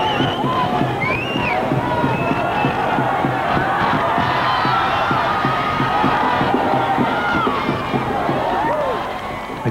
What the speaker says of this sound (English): the crowd love it. Listen to the crowd.